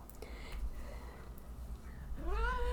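An elderly house cat named Flame gives a clear, rising-and-falling meow near the end, over quiet room noise. Fainter sounds come before it.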